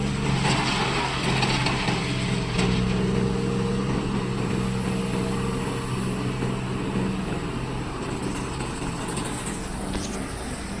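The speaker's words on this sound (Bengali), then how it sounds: "আর বার্জে থেকে কাজ করছে ম্যাটেরিয়াল হ্যান্ডলার এক্সকাভেটর।" A material handler excavator works from a barge, unloading large white Vietnamese stones from a ship into a bucket, a steady mechanical engine drone with faint scraping and knocks, continuous and moderately distant.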